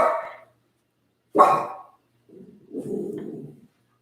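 A dog barks a few times at close range, sharp single barks separated by pauses, followed by a lower, rougher growling bark.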